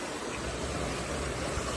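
A broad, steady rush of fast water pours through a large concrete canal in South Korea, loud and unbroken for a moment, with no voices over it.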